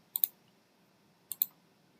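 Two quick double-clicks of a computer mouse, crisp and close, separated by about a second of near silence.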